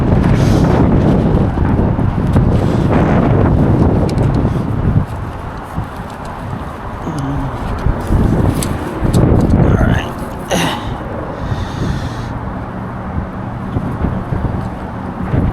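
Strong gusting wind buffets an outdoor microphone during kite flying in New York City, with loud broadband roaring throughout that eases briefly partway, plus a few faint voice-like sounds.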